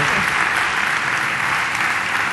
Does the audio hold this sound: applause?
yes